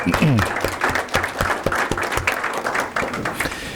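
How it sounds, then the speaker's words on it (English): Audience at a Santa Barbara Unified School District board meeting applauds its gold ribbon schools: a dense, steady patter of many hands clapping, fairly close and loud, running the whole stretch with a faint voice underneath. "let's applause"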